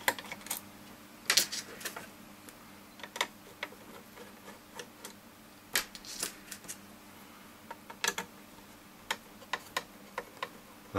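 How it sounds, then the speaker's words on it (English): Three T8 screws being removed from the base of a Bose SoundDock, with close, scattered sharp clicks and taps from a screwdriver and the plastic dock over a quiet background. "remove these three T8 screws in the base"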